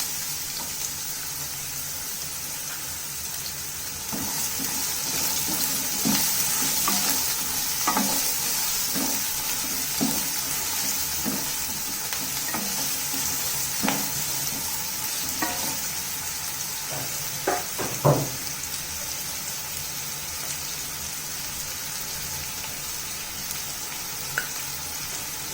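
Chopped onions and cumin seeds frying in hot oil for a samosa filling give a steady close sizzle, broken by scattered knocks and scrapes of a stirring spoon against the pan.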